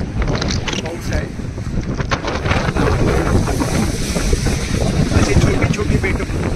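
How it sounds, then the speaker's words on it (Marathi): Strong wind gusting near a bridge in the Florida Keys along with rain, a loud roaring buffeting rush battering the microphone, continuous throughout with a voice partly buried underneath. "ब्रिजच्या एरियातला खूप वारा आहे"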